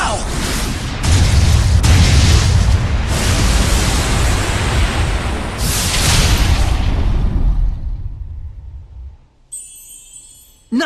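A cannon shot fired in the video game Tales of Zestiria bursts out as a loud, sustained booming rumble lasting several seconds, with repeated heavy blasts before fading into quiet.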